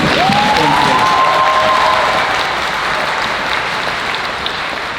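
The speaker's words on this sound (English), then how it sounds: "Give her a round of applause, please." A convention audience at a Q&A session gives a round of applause, a broad steady clapping that holds and slowly eases in level, with a brief whistle or cheer near the start.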